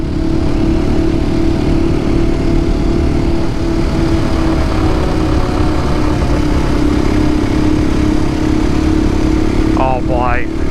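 A KTM EXC-F 500 dual sport motorcycle engine drones loudly and continuously close by, with a steady low rumble throughout and a brief chirp near the end.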